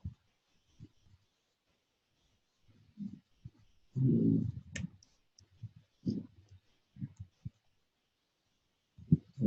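Computer mouse clicks during a Windows domain controller admin setup, a few sharp, faint ticks scattered between quiet stretches and low muffled handling noise.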